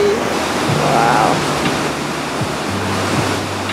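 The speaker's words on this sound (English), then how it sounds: "Waterfall, and then there's another one over there." A waterfall near Bellano, Italy, gives a steady, full rushing roar up close, with a faint low hum running beneath and no clear speech.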